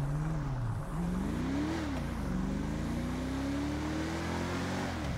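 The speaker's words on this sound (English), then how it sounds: "this charger sounds good" A Dodge Charger engine revs in GTA V, its pitch sliding down, then climbing steadily as the car accelerates, moderately loud and continuous with no talk over it.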